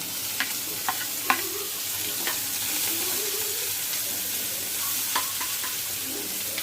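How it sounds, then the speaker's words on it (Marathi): Onions fry in hot oil in a pan as an oyster dish is started, a steady soft sizzle with occasional light clicks of stirring, quiet and close, with no talking. "सर्वप्रथम आपण हे कांदे आहेत ना आपण तर तेलामध्ये थोडंसं परतवून घेऊया"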